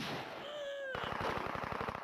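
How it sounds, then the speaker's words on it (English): A rapid burst of gunfire in an Indiana Jones video game shootout, evenly spaced shots hammering in quick succession after a brief tonal whine, fairly close and loud. "All of Magnus's men arrive and a shootout begins."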